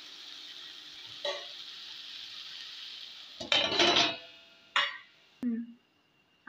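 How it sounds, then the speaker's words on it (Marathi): Vegetable curry cooking on low gas in a kitchen: a soft steady sizzle with a few close clinks and scrapes of a utensil against the pan, plus brief talk. "आपण ह्याला एक 5 मिनिटांसाठी लो गॅसवर"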